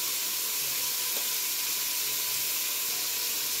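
Chopped tomato, beetroot, carrot and potato for pav bhaji cooking in a pan over a high gas flame, giving a soft, even hiss of steam and sizzle that holds steady throughout.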